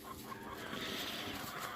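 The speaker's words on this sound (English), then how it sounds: "The chickens are over there making noise" Chickens cluck on a farm, faint and somewhat distant, forming a low continuous murmur of calls with no clear speech.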